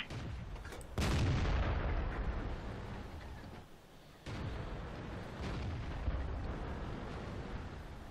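Heavy artillery booms in the World of Tanks game, a loud broadband blast about a second in followed by a long rolling rumble, with a second thudding report near four seconds and continuing low battlefield roar.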